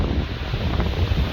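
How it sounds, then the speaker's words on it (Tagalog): Strong gusting wind outdoors on a sunny morning, a steady broadband roar buffeting the microphone throughout with low rumbling thumps, no voices. "There's sunshine, but the wind is just really strong."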